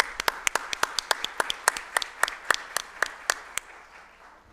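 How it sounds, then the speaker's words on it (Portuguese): Sparse applause at a formal ceremonial session, about a dozen sharp, distinct claps in a loose rhythm from a small group, fairly quiet and fading out near the end, with no voices. "Salva de palmas, gente."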